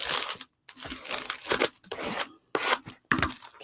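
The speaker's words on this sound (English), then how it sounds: "Excess right there, I'm just gonna scrape it off." Matte-medium-coated collage paper being scraped off the edge of a mixed media art journal cover, a series of close, dry rasping and crinkling strokes separated by brief pauses.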